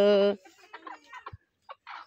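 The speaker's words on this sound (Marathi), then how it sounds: "इथं कोंबड्यांची पिल्ल" A hen gives a loud harmonic call, then scattered soft clucks and peeping chick sounds follow, with quiet gaps between them.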